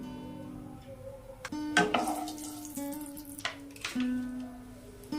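Mustard oil poured into a hot wok for a Bengali katla kalia fish curry crackles and sizzles in short bursts, with clinks and splashes between spurts, close and moderately loud.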